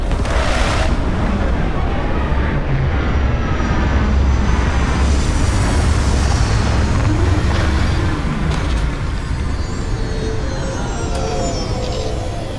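A spaceship touches down in the video game Starfield, a loud, steady roaring engine rumble with a deep low drone that holds throughout without a break, no talking.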